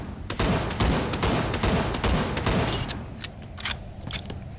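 Gun firing in the video game Project Contingency, rapid repeated loud shots in quick bursts with punchy booms, close and dominant, without talk.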